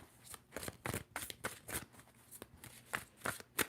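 Tarot cards are shuffled in quick, soft riffling bursts and flicks, close and quiet, with brief pauses between runs.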